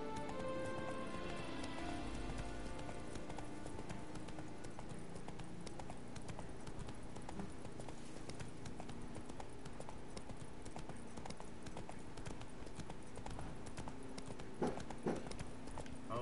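Roach the horse gallops in The Witcher 3: Blood and Wine countryside, steady rapid clip-clop hoofbeats running continuously with game music and ambience beneath, and a brief whinny or rattle near the end.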